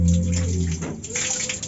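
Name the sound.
shower water running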